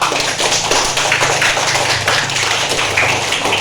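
Pupils in a classroom clap their hands together during a lesson, a loud, busy, continuous patter of many small hands close by, with no speech over it.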